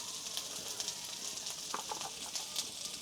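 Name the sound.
potatoes being fried in a pan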